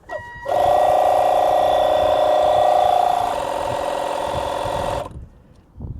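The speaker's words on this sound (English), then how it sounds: "in the bike mode, the pump runs slightly slower" An ETENWOLF Vortex S6 portable tyre pump runs in bike mode, a steady close mechanical whine and buzz that starts abruptly, drops slightly in pitch partway through, then cuts off after about five seconds.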